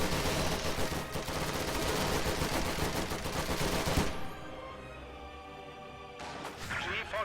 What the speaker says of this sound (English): incendiary round on his assault engineers brings 2 of them down